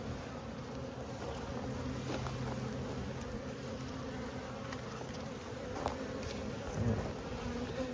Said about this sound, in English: Because there's so many bees in here